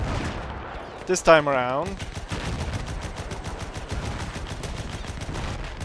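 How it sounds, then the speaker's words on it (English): Rapid, evenly spaced machine gun fire from a gunner just over a hill in the WW1 game Between Empires, a steady rattling stream at moderate distance, briefly interrupted by someone speaking. "there's a machine gunner, what seems to be just over the hill here somewhere, doing damage to us"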